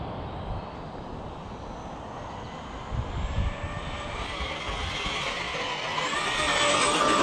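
An Arrma Big Rock V3 RC monster truck runs at full throttle outdoors. Its high electric whine swells steadily louder and sharper as it approaches, with a few rough thumps midway and no voices.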